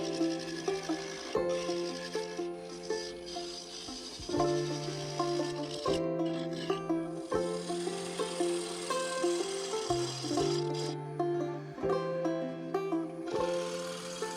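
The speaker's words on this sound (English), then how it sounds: "I kept working away, switching between the carbide cutter and the bowl gouge." An ash bowl is turned on a lathe with a carbide cutter and bowl gouge, giving a continuous motor hum under repeated rasping, scraping cuts that come in regular strokes every second or two.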